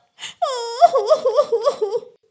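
A child wails in a long, wavering cry that breaks into a series of choked, sobbing pulses before trailing off.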